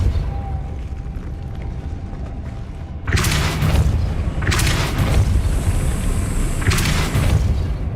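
Depulso force spell fired in Hogwarts Legacy, three loud broadband whooshing blasts after a quiet opening, each burst lasting about a second over constant game ambience.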